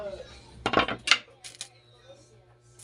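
A spoon stirs food in a metal cooking pot while sopas is being made: a few sharp clinks and scrapes close up in quick succession, then fading to quiet, with no talking.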